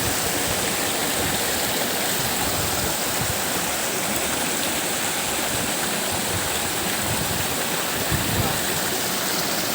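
A forest waterfall pours over a broad rock beside a stream, producing a loud, steady, unbroken rush of water that fills the whole scene with no pauses.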